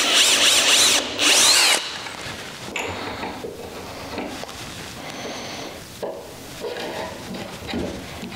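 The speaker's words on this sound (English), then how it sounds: "center it, and just drill a hole." Power drill boring a hole into the bottom rail of a rustic pine door, with a loud whirring burst near the start, then lower intermittent drilling and mechanical clicks.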